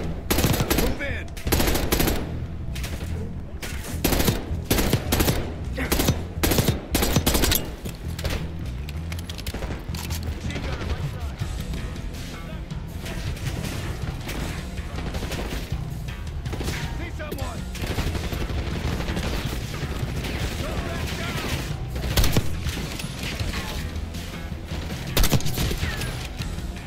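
Sustained automatic gunfire from a firefight in Call of Duty Black Ops 6, loud and dense, with rapid bursts, single shots and booms layered over a continuous battle din for the full duration, without clear speech.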